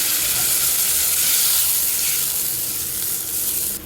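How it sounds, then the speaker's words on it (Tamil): Mutton head curry with bottle gourd, coconut masala and green chillies boiling in a pot: a steady, fairly loud bubbling hiss that runs continuously with no voices. "நல்லா கொதி வருது பாருங்க"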